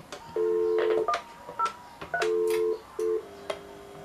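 DTMF touch-tone beeps from a DIY telephony device, a handful of short dialing tones in uneven bursts, some longer and some clipped, clear and close with quiet background between.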